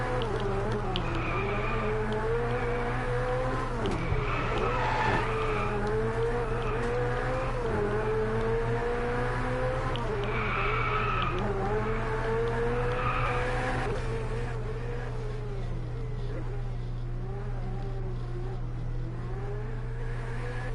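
A Ferrari 488 GTB in the Driveclub racing game holds a steady engine drone while its tires squeal and skid through repeated corners, the tone rising and falling with the revs, loud and continuous.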